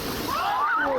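A person jumping from a bush into a river pool sends up a brief, close splash, with a voice rising over the water noise.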